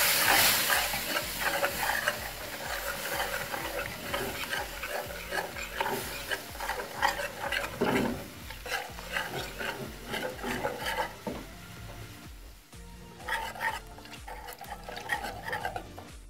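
Milk is stirred into a macaroni nugget mixture in a pan, with continuous close scraping and clinking of a spoon against the pan over a wet bubbling sizzle, in uneven bursts with brief pauses.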